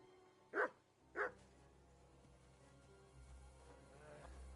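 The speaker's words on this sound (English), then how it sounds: "what are you barking at?" Two sharp, loud dog barks in quick succession inside the medieval world of Kingdom Come Deliverance 2, followed by a quieter, rumbling ambient background.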